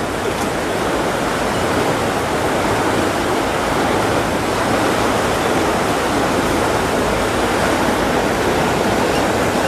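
Loud, steady rush of river water flowing past a boat, a continuous broadband wash with no breaks or voices.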